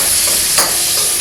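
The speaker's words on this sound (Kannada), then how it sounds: "ಸೊ ಕ್ಯಾಪ್ಸಿಕಮ್ ಫ್ರೈ ಆದ ನಂತರ ನಾನು ಅದೇ ಬಟರಿಗೆ ಸ್ವಲ್ಪ ಗಾರ್ಲಿಕ್ ಹಾಕೊಳ್ತೇನೆ" Garlic fries in butter in a pan, giving a steady, loud sizzle and hiss with a brief swell of crackle partway through, close by and with no talking.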